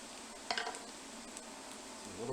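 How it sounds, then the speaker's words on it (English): Mushrooms sautéing in butter with shallots in a pan give a steady, soft sizzle throughout, with a brief louder clatter of stirring near the start. "Throw our mushrooms in there as well. Give them a little saute."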